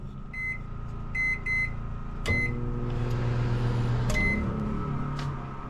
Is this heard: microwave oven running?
yes